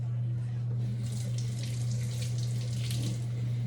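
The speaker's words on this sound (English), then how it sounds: "let me rinse these off real quick." Kitchen faucet water runs steadily over peppers being rinsed, a soft continuous splashing hiss with a strong low hum beneath and no one talking.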